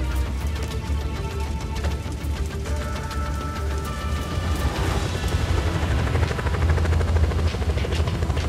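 Helicopters in the Just Cause 4 video game drone loudly and continuously with a dense rotor chop, joined by scattered booms and crashes of combat.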